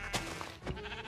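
Goats in the Minecraft video game, shown with a texture pack, give two short, quiet bleats close together, with no other sound around them.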